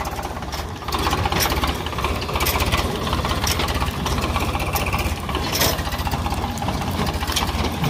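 A tractor engine runs in first gear, chugging loudly and steadily up close with a rapid knocking, rattling pulse and a bit of mechanical clatter throughout, no talk over it.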